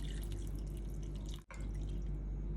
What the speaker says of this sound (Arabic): غسلت الفول كتير منيح ورح اضيف عليه مي نظيفة حوالي كاسة